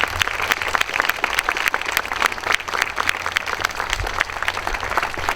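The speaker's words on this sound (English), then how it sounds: "Board members, please raise your hand so we could give you a rounding sound of applause" A morning community gathering with the audience applauding its board members, dense steady clapping from many hands that holds at an even level throughout, close and full.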